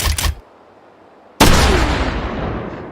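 Two loud, close booms from a gun in the VR game H3VR. The second is a heavy blast that rolls out into a long, fading rumble and roar after a short silence.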